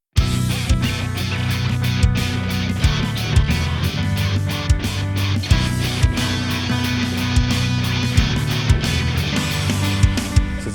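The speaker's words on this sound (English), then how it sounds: "let's bring in the bass and the drums as well as adding in some scratching over that as well" A nu-metal mix runs continuously with filtered heavy guitars, bass, punchy drums and turntable scratching layered on top, driving and loud with regular drum hits throughout.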